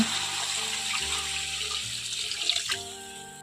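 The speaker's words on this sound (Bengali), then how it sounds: "এখন আমি এর মধ্যে জল দিয়ে দিচ্ছি" Steady stream of water pouring into a pot of egg and red lentil curry on the stove, a continuous close splashing gurgle with no talking.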